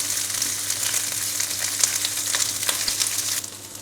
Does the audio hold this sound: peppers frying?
yes